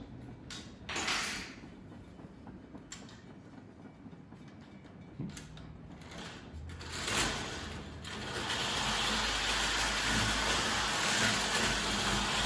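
A Marx M10000 wind-up toy train runs on its track with a continuous mechanical whirring clatter that swells and becomes louder and steadier toward the end.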